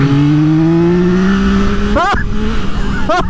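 A 2024 Yamaha MT-09 motorcycle engine drones and climbs in pitch, then two sharp rev blips in quick succession; someone shouts briefly.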